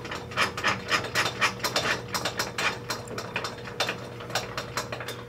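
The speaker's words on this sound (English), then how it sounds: "And then you bring your blade up." A table saw blade being cranked up on a crosscut sled setup, a close run of quick ratcheting mechanical clicks in a steady uneven rhythm, with no voices.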